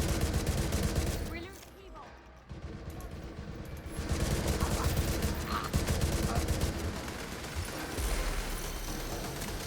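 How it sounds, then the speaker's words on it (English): A video game firefight with rapid, sustained rifle fire keeps rattling loudly through most of the stretch, dipping briefly before the dense automatic shots return. "Like what rifle fires at that rate?"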